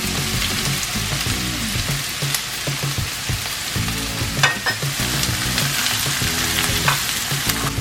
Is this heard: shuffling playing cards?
no